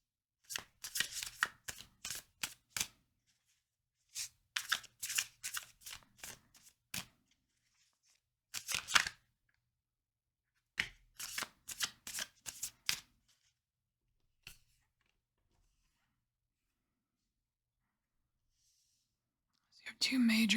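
Tarot cards shuffled in repeated quick riffling bursts with short pauses between, close and crisp in a quiet room, ending with a longer silence and a brief final burst.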